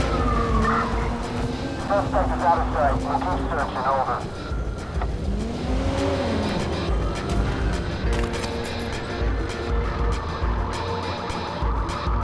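Police car siren wailing in the Watch Dogs video game during a pursuit of a suspect, rising and falling over steady traffic and engine noise, with radio dispatcher voices talking over it throughout.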